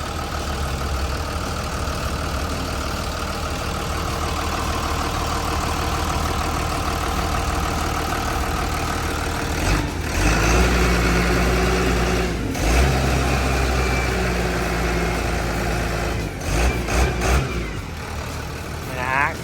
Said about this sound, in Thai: เครื่องยนต์เขาก็ทำงานได้แน่นดีมากๆเลยนะครับอ่าเสียงเครื่องเนี่ยไพเราะเลยนะครับ